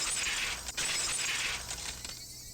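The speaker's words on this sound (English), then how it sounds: "The unpleasant, piercing sound of shattered glass" Glass shattering in the game Higurashi When They Cry, a sharp crash that rings on as a long bright spray of breaking shards, loud and continuous before cutting off abruptly near the end.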